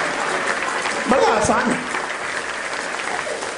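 Audience applause at a Hindi comedy poetry show, heard as a burst of clapping that swells briefly and then fades, with someone speaking over it.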